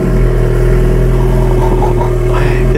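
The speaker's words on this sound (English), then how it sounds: "I think it's pretty much time to have the first ever startup" A new car's engine, started for the first time with a push button, settles into a steady, loud idle with a constant low hum and a faint rise near the end, and no talking.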